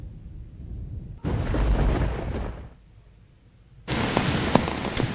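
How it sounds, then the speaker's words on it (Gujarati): Heavy continuous rain pouring in Ahmedabad during monsoon flooding, coming in two dense bursts of loud hiss separated by a quieter gap, with no voices. "અત્યારે પણ અવિરત વરસાદ વરસી રહ્યો છે"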